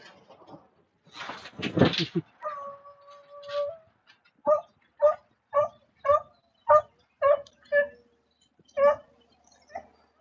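Several dogs bark on a neighborhood walk, a whimpering yelp and a burst of whine first, then a run of about eight evenly spaced sharp barks from nearby, with no talking.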